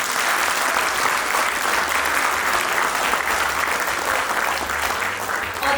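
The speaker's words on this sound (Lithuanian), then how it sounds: "Skirkime dar plojimą." Sustained applause from a concert audience for an accordion orchestra at a children's choir anniversary concert, a dense even clatter of clapping hands lasting throughout at steady loudness.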